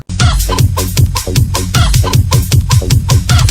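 A rooster crows loudly and repeatedly in a sound effect, with dense harmonic cock-a-doodle calls mixed with clucking, filling the whole stretch without pause.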